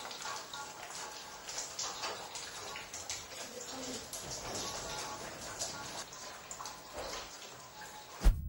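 Hail pelting down during a violent early-morning hailstorm that wrecked crops, orchards and roofs, a dense steady rattle of pattering impacts filling the whole stretch with a sharp knock near the end.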